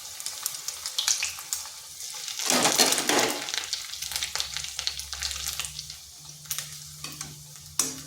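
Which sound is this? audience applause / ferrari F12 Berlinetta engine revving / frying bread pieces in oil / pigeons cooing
frying bread pieces in oil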